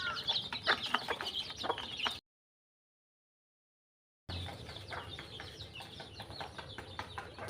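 Backyard chickens cluck steadily at a moderate distance in two stretches separated by a short silent gap, with scattered soft calls from other fowl mixed in.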